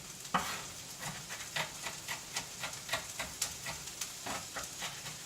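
Onions sizzle and fry in a hot pan while a utensil stirs and scrapes in a quick, irregular rhythm of soft clicks, close and fairly quiet.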